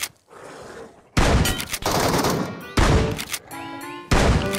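Loud, close shotgun blasts from the NS2000 in the video game Metro Exodus: four heavy booming shots spaced roughly a second apart, each with a ringing metallic tail and a mechanical clack.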